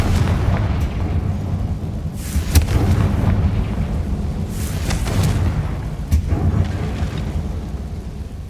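Blasting-spell explosions from Hogwarts Legacy, a dense continuous rumble with a few brighter bursting cracks rising out of it at irregular moments, loud and close throughout.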